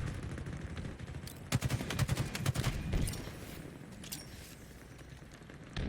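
Grenade explosions in a video game: a tight cluster of rapid, punchy blasts amid gunfire, loud and close for a couple of seconds before fading back to quieter action, with no speech.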